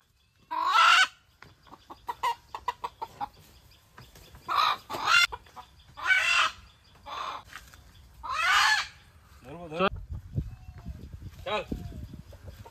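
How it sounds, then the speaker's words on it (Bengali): Several loud squawking bursts from a native village chicken being chased and caught, spaced a second or two apart, with scuffling noises between and a voice near the end. "দেশি মুরগি হাতে করে ছুটে গেছে"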